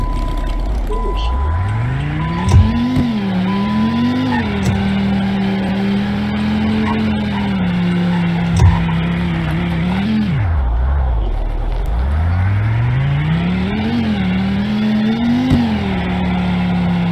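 An old Dodge Viper ACR drives close by, its engine droning steadily and then surging and dropping as it revs up and eases off several times.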